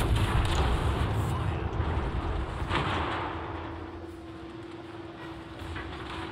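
Secondary guns on the HMS Collingwood battleship fire during a tier VII random battle in World of Warships, making a steady rumbling barrage of distant-sounding booms over engine drone and a constant hum.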